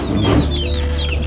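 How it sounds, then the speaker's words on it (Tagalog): Chickens clucking at close range during a backyard birthday gathering, a short burst of fowl calls over a steady background hum. "Oh, may manok."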